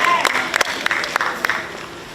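An audience at a sports innovation final competition applauds the winning team, with scattered sharp claps over a steady wash of crowd clapping, fairly close and lively throughout.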